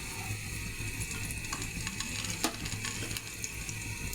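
Lachha semai vermicelli with chopped almonds and raisins frying in ghee, giving a steady, close hiss of sizzling with one brief sharper crackle, and no talking.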